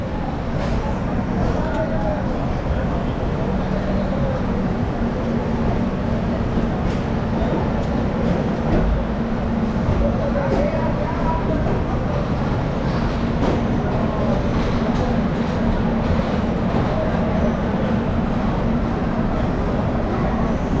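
A train rolls continuously toward Naihati Junction, a steady loud rumble with faint clattering throughout, heard from on board with no break in the noise.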